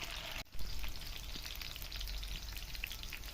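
A small chopped onion hits a hot pan and sizzles steadily, a close, crackling fry that continues evenly after a brief pause.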